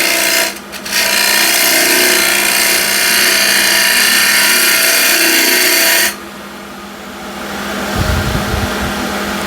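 A wood lathe spins an old window sill at 1800 RPM, giving a loud, steady whirring drone that cuts off abruptly partway through, leaving a quieter hum with some low rumbling at the end.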